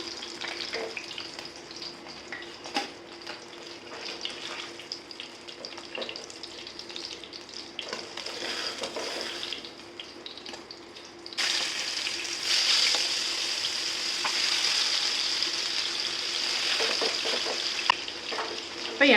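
Fish frying in oil during home cooking, a steady crackling sizzle throughout that grows louder and denser about two thirds of the way in, with occasional clatter and no talking.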